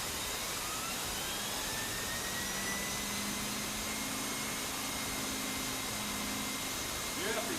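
A central vacuum with an air-driven power head, made by a competing brand, runs across a floor scattered with Rice Krispies, giving a steady whooshing roar of airflow throughout, with faint speech underneath.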